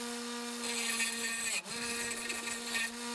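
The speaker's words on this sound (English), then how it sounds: "it's easier to just do it on the bench grinder." A bench grinder hums steadily while a small piece of steel is pressed against the wheel, giving a harsh, continuous grinding whir close by, with a brief dip in the middle.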